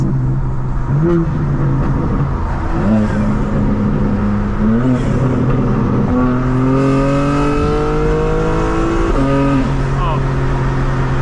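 A 2024 BMW M4 Competition xDrive (G82) revs hard from inside the car, its exhaust note rising and falling through several loud, sustained pulls, with a voice talking over it.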